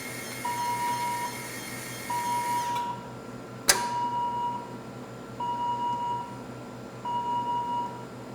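A plate-setting machine emits a series of steady, evenly spaced electronic beeps over a low mechanical hum, interrupted once by a sharp click, signalling a printing plate installed in its clamps.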